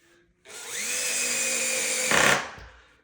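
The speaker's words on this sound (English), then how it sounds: "The drill will make a click click sound, meaning it's done." A power drill drives a screw into a height-adjustable desk during assembly, its motor whirring up and holding a steady, loud whine for about two seconds before a brief harsher burst and a quick wind-down.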